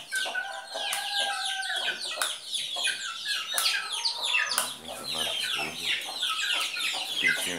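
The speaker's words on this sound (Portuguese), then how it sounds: "A galinha tá aqui." Several chickens cluck and chatter close by, including a hen with chicks, in a farmyard on a windy day; the calls come in dense, overlapping bursts with thin chick peeps among them and no one speaking.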